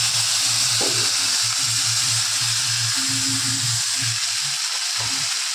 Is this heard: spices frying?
yes